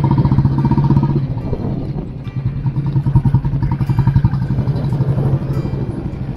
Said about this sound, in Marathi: मी आता गिरीश बरोबर बुलेटवर असे.